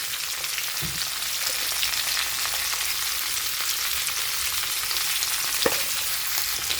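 Mixed winter vegetables fry in a pan with salt and turmeric, making a continuous close sizzling hiss with a couple of brief stirring knocks and no voices.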